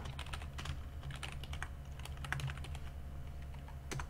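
Steady typing on a computer keyboard while entering script code in Roblox Studio, a run of quick close clicks over a low constant hum, with no talking.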